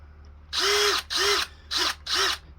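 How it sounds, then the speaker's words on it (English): Countersink bit deburring freshly drilled holes in a Kydex knife sheath, four separate short whirring bursts of roughly half a second each with brief pauses between, close and fairly loud over a low steady hum. "So you're just taking your countersink and cleaning up the edges."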